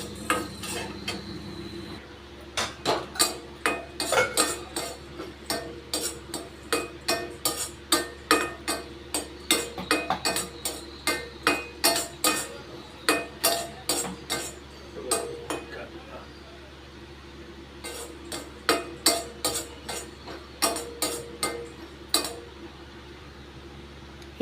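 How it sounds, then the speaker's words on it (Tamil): Roasted gram (pottukadalai) being dry roasted in a pan for Udupi-style idli podi: a steady stream of rapid metallic clinks and scrapes from stirring against the pan, close and continuous over a low background hum. "1 கப் அளவுக்கு பொட்டுக்கடலை எடுத்து அந்த கலர் மாறுற வரைக்கும் நம்ம வறுத்துக்கலாம்"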